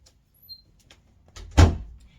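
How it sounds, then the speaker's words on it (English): An indoor door is pushed shut with a single soft thud, preceded by faint shuffling and a short creak, and nothing else follows but quiet. "I'm going to close this door"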